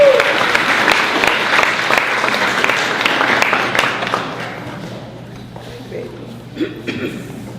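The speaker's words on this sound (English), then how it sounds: "Let's give her a round of applause." An audience at a birthday celebration applauds after a solo singer is announced. The clapping is loud at first and fades over several seconds, with a few scattered claps at the end.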